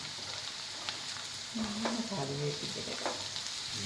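Curry leaves and mustard seeds fry in hot oil for an egg roast, giving a steady close sizzle and crackle with a few brief pops and faint tonal sounds in the middle.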